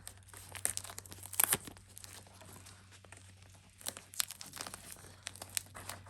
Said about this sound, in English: And I'll just tape it on.